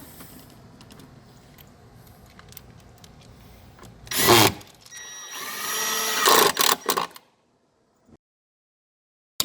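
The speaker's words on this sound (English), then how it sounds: "Reattach the pump ground. Screws back in." Screws are driven back in while a control pack is reinstalled: two short bursts of a power driver whirring close by, with faint handling noise before and silence after.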